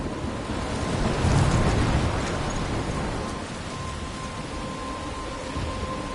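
Steady, dense rain hisses throughout a thunderstorm in Life Is Strange, and a low rumble of thunder swells early on before fading back beneath the constant downpour.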